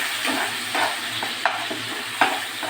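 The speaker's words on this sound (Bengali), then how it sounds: "আমি এবার এটাকে ভেজে দেব। ভালো করে তেলের মধ্যে ভাজা," A ground paste of coriander, green chilli, onion and garlic frying in oil, sizzling steadily while a spatula stirs and scrapes in a regular rhythm with a few sharp knocks, close and with no talking.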